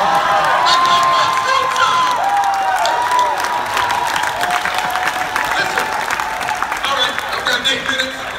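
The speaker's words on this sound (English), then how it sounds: "clap like there's money in your hand and shout that I am excited" Convention audience at a network marketing event clapping and cheering loudly, a dense, sustained wash of applause with shouts and whoops, continuous throughout at close range.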